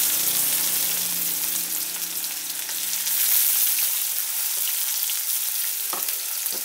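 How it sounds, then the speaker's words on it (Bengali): Chopped onion frying in oil with bay leaf, dried chilli, whole garam masala and cumin, a steady bright sizzle heard up close, with a faint low hum early on and a brief scrape toward the end. "পেঁয়াজটাকে একটু ফ্রাই করে নিচ্ছি"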